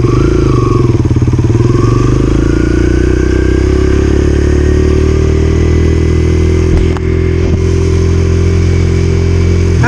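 A dirt bike engine runs nearby at light throttle, a loud, steady drone that climbs slightly in pitch without any sharp revving.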